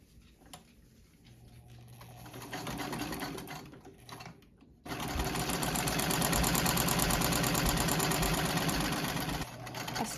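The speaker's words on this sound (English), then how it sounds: "pinned it to the top part of the collar, and sewed it on the machine" Sewing machine stitching a collar lined with dark silk: faint handling sounds and short stops first, then a loud, steady rapid whirring run that continues for several seconds before easing slightly at the end.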